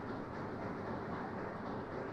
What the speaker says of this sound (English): Let's see this train.